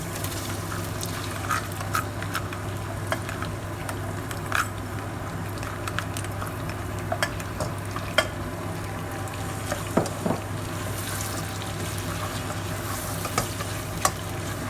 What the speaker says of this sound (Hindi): और इसको हम करना है हल्का सा फ्राई। और फिर हम इसमें डाल देंगे चावल।